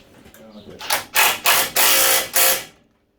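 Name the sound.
spanner ratcheting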